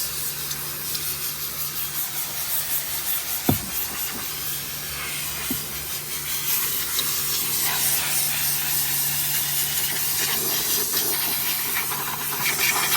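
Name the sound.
steam cleaner hissing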